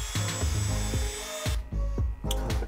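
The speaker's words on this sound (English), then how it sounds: "I'm definitely gonna take the stone bit and round these edges a little bit more into them." Rotary tool fitted with a stone bit grinding and rounding the edges of a handmade mask, loud whining bursts that stop and restart several times in quick succession, close up with no speech.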